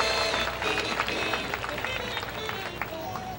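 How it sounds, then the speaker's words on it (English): Audience applause and clapping fill the stands at a live dolphin show, a dense, steady wash of many hands close by with no talk over it for a few seconds. "how about one last round of applause for Jeff before he takes off here?"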